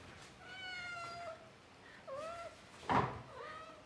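A pet cat meows indoors during a live ink landscape painting lesson, several drawn-out, moderately quiet cries spaced over a few seconds, with a soft knock or thud among them and no talking.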